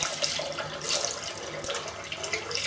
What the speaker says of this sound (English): so now put some more hot water in here